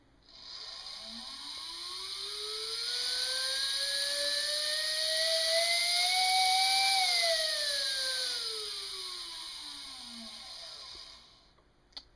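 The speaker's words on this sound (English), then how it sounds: "That's the sound of a motor in a lot of pain." A small electric motor strains on a 12-volt full-wave bridge supply, its whine sweeping up in pitch and then back down over a steady airy hiss, loud and up close, with no talking.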